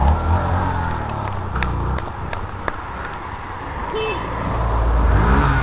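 A car drives along a street, its low rumble swelling and growing louder toward the end, with scattered clicks and clatter nearby.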